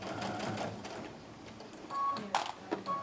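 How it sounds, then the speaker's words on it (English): Sewing machine with a dynamic walking foot stitching through a quilt along the sashing, a steady close mechanical whir with brief harder clatter near the end. "And then I'm going to start sewing actually out on that sashing part a little bit."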